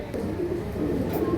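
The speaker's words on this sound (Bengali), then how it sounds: "মাশাল্লাহ ছাড়াছাড়ি লাইনের এক জোড়া খাকি কবুতর" A pair of khaki pigeons cooing up close, a soft continuous low rolling coo lasting barely over a second.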